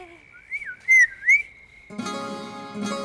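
A person whistles a rising and falling flirtatious tune in a few loud, close bursts, followed by a rush of music-like noise.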